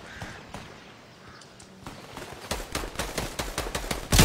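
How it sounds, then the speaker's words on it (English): Gunfire in the Apex Legends video game: a quiet first half with scattered faint shots, then a rapid run of loud, evenly spaced gunshots from about midway, ending in a louder close burst. "Oh, someone's shooting at me."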